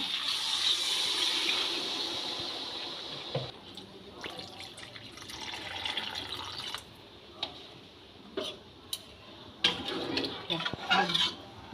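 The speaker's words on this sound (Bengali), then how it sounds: "এবার জল দিয়ে দেবো জলটা দিয়ে দিলাম" Water is poured into a pan of jackfruit and prawn curry: a rushing splash at first, then scattered drips, clinks and light stirring noises close by.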